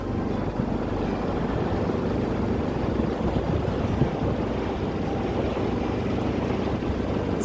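Motorboat cruising across Lake Alexandrina, a steady low engine drone with water wash and wind rushing past the microphone, continuous and even throughout with no voices.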